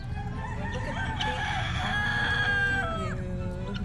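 A wild turkey gobbles loudly and close by outdoors, a long rattling call that rises and falls, with other birds faintly behind it and no talking.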